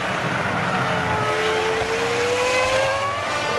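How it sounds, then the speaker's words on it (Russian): Ferrari Formula 1 car at Suzuka in 2000, driven by Michael Schumacher out of the Dunlop corner, its high engine whine climbing steadily in pitch as it accelerates, loud and continuous with no voices. "Михаэля Шумахера, который выходит из поворота Данлоп в настоящий момент"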